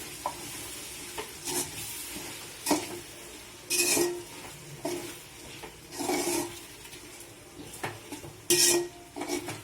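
Coriander fries in a pan for chicken biryani, with a steady sizzle under repeated scraping and clanking of a utensil stirring against the metal, the strokes coming every second or two.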